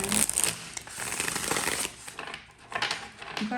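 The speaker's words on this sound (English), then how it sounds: "Let's shuffle a few more times." A deck of tarot cards is shuffled by hand in quick riffling bursts, a close papery flutter with short pauses between passes.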